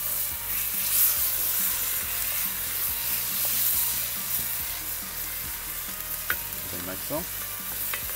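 Tomatoes crushed into a sizzling pan on a Weber grill for a kangaroo steak barbecue cook: a steady close frying hiss with soft stirring scrapes and a few squelchy knocks near the end, with a brief spoken phrase.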